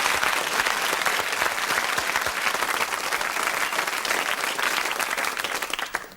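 A television studio audience applauds steadily for about six seconds at a 1970s murder-mystery quiz show, a dense, even wash of clapping that holds at full strength and fades only at the very end.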